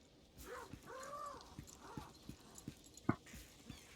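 In the video game Lost Ark, a horse's hooves clip-clop in an even, steady rhythm, faint and close, alongside soft tonal game sounds.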